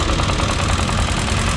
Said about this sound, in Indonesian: Jadi ada sebuah motor, motor Beat, bunyinya kasar.